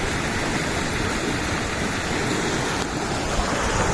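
Hadapan Ella waterfall in the Sinharaja rainforest pours steadily, a dense continuous roar of rushing water filling the whole stretch at close range with no voices.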